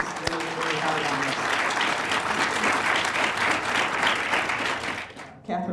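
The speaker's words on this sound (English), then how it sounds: "So can we all give them a round of applause?" An audience at a farming and food-system talk breaks into steady, full applause that holds for several seconds, then thins and fades out near the end, with a few voices under the clapping.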